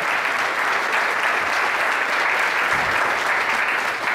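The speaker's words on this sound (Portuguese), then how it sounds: "E vamos aplaudir ao Senhor Jesus." Church congregation clapping steadily and loudly in praise, a dense, even wash of applause that fills the room from start to finish.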